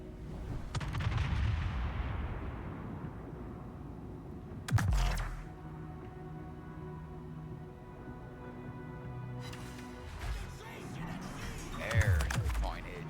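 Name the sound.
ship guns firing in video game World of Warships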